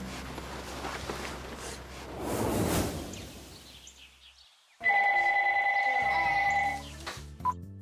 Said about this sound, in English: Later on, Jen got a phone call from Bryce.